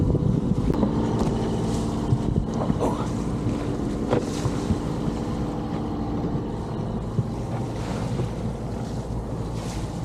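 A Cromarty 36 sailing yacht gets underway off Plymouth, with a steady rush of wind over the microphone and water washing along the hull, loud and continuous.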